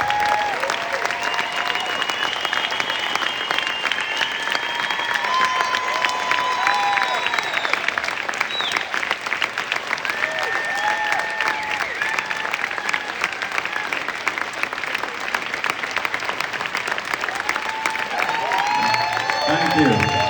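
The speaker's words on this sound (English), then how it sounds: "Give him a round of applause." Sustained applause from a large audience honoring an Army veteran at a motivational speaking event, dense steady clapping filling the whole stretch, with faint voices and cheers mixed in.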